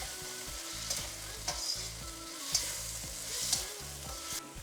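Peppers sizzle and get tossed with pork in a wok over maximum heat for a Chinese celtuce stir-fry, a steady frying hiss with occasional louder clatters of stirring, set against background music with no speech.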